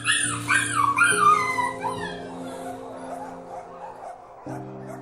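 Dogs whimper and yip at a licensed dog breeding operation resembling a farm: high, wavering whines crowd the first two seconds, then fade into softer whimpers over a low droning hum that drops out and returns.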